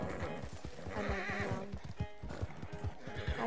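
A horse neighs and whinnies in Red Dead Redemption 2 over a steady clip-clop of hooves, close and fairly loud, with a busy game soundscape behind it.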